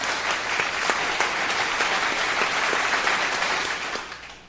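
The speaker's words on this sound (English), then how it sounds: "of which we want to give him applause." A crowd claps steadily in dense, sustained applause, loud and even throughout before tapering off slightly at the end.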